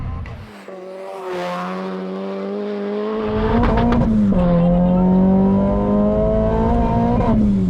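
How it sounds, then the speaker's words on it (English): Supercharged, fully built 350 bhp Renault Clio RS200 engine revving hard and bouncing off the rev limiter, a loud, close, steady high-pitched drone with rising pitch and stuttering cuts, heard from inside the car. "I love it when it bounces off the limiter."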